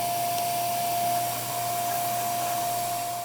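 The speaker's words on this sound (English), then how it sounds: "I have a retrofitted attachment for my vacuum that I think I can get right in here with" A vacuum cleaner fitted with a retrofitted attachment cleans out a Harman Accentra 52i pellet stove insert, a steady close whine with a constant tonal hum running throughout, no talking.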